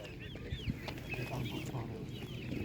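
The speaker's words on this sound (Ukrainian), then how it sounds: "Дивіться, є ось такі курочки Орбінтон, є молодняки, трошки старші." Several Orpington chickens cluck and chatter continuously nearby at an animal market, soft overlapping calls over a steady background hum.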